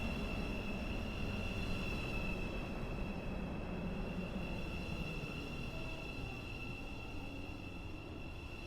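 A metro train in the Stepford County Railway video game runs with a steady, continuous rumble of wheels and motor, holding even loudness throughout with high tonal whine lines overhead and no talking.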